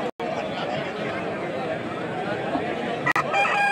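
Roosters crow briefly near the end over a dense, constant roar of crowd chatter at a Sankranti cockfight ring in West Godavari district.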